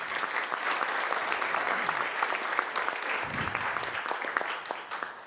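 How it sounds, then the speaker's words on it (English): An audience at the AMEC Global Summit on Measurement and Evaluation applauds, dense steady clapping from many people that carries on for several seconds before tapering off. "Big round of applause for them."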